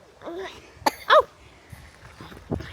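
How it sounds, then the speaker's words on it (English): A couple of short, harsh coughing bursts from a dog, close by, with quiet gaps and faint rustling between them. "He seems to have a bit of a cough back again."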